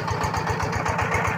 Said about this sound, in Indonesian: Meskipun pompa diesel saya yang bekas ini kapasitasnya ya 24 PK.